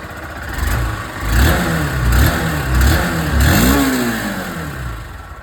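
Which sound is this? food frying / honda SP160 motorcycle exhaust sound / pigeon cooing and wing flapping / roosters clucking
honda SP160 motorcycle exhaust sound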